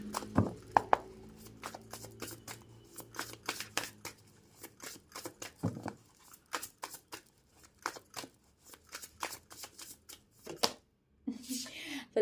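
Tarot cards from a second deck being shuffled close up, a long run of sharp riffling snaps and flicks in quick uneven bursts, with a brief soft rustle near the end.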